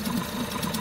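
Tohatsu 3.5 outboard motor running during break-in, clamped in place and tied with rope: a steady, close mechanical buzz with a fast, even rhythm that holds unchanged through the short stretch, with no talking.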